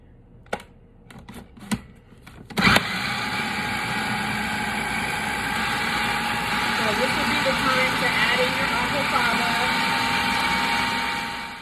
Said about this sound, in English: You're just going to pretty much pulse it.